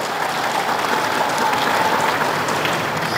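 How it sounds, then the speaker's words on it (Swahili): Audience applauding with dense, sustained clapping that stays even and steady throughout, with no talk over it. "Tumpigieni makofi mengi sana sana sana"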